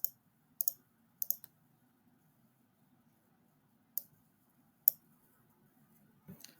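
Sharp computer mouse and keyboard clicks come in small clusters, a couple of double clicks early on and a few isolated taps later, close and crisp over a faint low room hum, with no talking.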